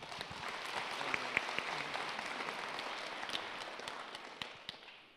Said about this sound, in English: Okay, I knew you'd clap